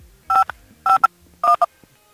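Telephone keypad tones beep in three pairs of short double tones spaced evenly apart, clear and close against a quiet background.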